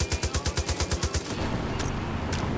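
Rapid automatic gunfire in Far Cry 5, a tight burst of about a dozen evenly spaced loud shots, then the shooting stops and a noisy game ambience carries on with a couple of faint distant bangs.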